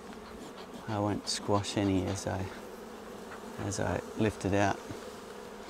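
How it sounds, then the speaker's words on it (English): Honeybees buzz continuously around an open Flow Hive Classic Flow frame during a hive inspection, a steady close hum running beneath a man's nearby speech. "I'm just going to move some bees off just where I want to work"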